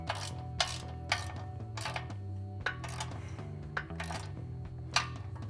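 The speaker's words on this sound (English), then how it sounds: "then we go ahead and tighten everything down" A ratchet tightens 5/8 bolts on a CBI rear bumper for a ZR2 truck, with repeated clicking bursts at an irregular pace over a steady low hum, close and moderately loud, no talk.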